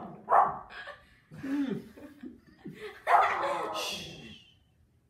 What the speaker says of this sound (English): Sorry, my dog's being mean.